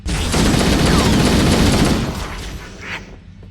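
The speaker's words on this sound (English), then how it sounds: "I don't know why he shot at a wall." Sustained loud gunfire from an AI character shooting at a wall in the video game Halo, a dense rattling burst that fades into a low rumble and a final brief whoosh.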